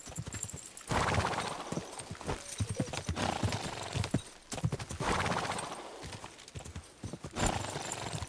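Horse galloping hard during a race in Kingdom Come: Deliverance II, with steady loud clip-clop hoofbeats broken by short pauses and occasional whinnies.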